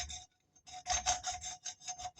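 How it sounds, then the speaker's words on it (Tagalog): A motorcycle wheel hub hole being enlarged by hand, with quiet, rhythmic rasping strokes in short bursts and brief pauses between them. "kailangan nilang palakihin yung butas para mailagay nila yung gulong"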